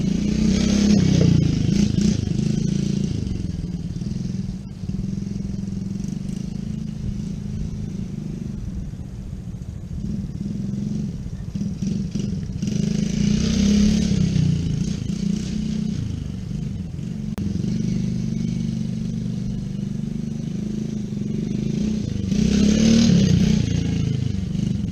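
Small 110cc ATV quad engine buzzing and revving while popping wheelies out back, a steady mid-distance drone that swells in several throttle surges with faint scraping and clatter, no talk over it.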